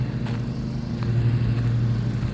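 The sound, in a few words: mowing machine driving off to cut grass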